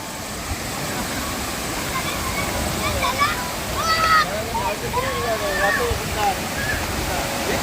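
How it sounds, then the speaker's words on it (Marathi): A waterfall's steady rushing roar runs throughout, with a person talking over the constant wash of water. "हा बघ असला वॉटरफॉल कितका सुंदर दिसतोय"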